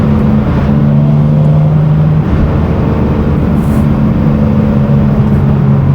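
BMW G87 M2 with an AWE SwitchPath exhaust held at a steady, loud idle-to-rev drone, a deep continuous exhaust hum with low rumble and no talk over it.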